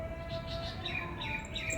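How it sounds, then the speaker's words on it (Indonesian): Small birds chirp and tweet in a home vegetable garden, a few high calls repeating over faint steady background noise, moderately distant. "Lagi ada burung teman-teman."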